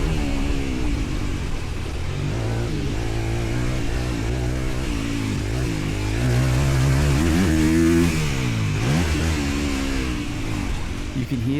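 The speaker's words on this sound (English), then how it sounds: "You can hear the sound of the engine clearly with little to no wind noise at all." A motorcycle engine drones steadily at mid pitch on a track, rising and falling slightly as the rider shifts speed, with almost no wind noise.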